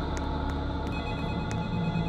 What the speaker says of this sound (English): Are they calling back? Answer the phone!